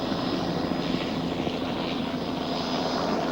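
A helicopter in flight over mountain slopes, a steady loud engine and rotor roar that holds constant throughout, with no voices.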